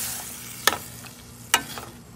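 A spoon working through gongura shrimp curry in a pan, two sharp scraping strokes over a soft simmering sizzle, close and without speech.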